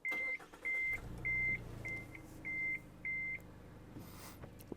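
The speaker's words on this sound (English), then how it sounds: "Lots of beeps and bongs with this one actually" A 2024 Mazda CX-3 at startup sounds six evenly spaced high electronic warning beeps over about three and a half seconds, clear and close inside the cabin over a low idle hum.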